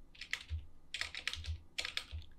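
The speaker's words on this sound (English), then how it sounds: "Typing's hard." Quick bursts of typing on a computer keyboard while building an SQL query in a database lesson, close and fairly quiet, in three clusters of rapid keystrokes.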